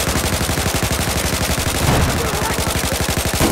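Rapid automatic gunfire from a CBJ submachine gun in Battlefield 4, a dense, continuous stream of close, loud shots across the whole stretch.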